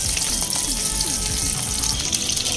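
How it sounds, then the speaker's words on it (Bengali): Whole cumin seeds and slit green chillies sizzle steadily in hot oil for a Bengali pabda fish curry with pointed gourd, a dense continuous frying hiss with faint clinks from stirring and no talk. "ফোড়নটাকে কয়েক সেকেন্ড নেড়ে নেব।"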